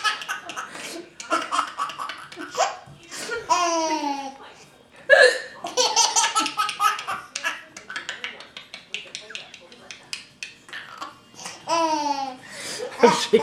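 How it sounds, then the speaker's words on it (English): A woman laughs hard in repeated bursts, broken by sharp, sudden hiccups that jolt through the laughter, close and loud, with some breathy gasps between. "mommy with the hiccups"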